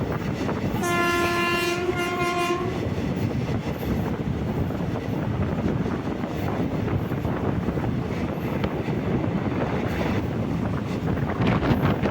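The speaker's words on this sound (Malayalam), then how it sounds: "നമ്മുടെ ട്രെയിൻ അങ്ങനെ അത്യാവശ്യം നല്ല സ്പീഡിലൊക്കെയാണ് കേട്ടോ പോകുന്നത്." A passenger train running at speed on the Thiruvananthapuram to Kollam line sounds a long horn blast near the start, then a loud continuous rumble of wheels and rushing wind carries on without voices.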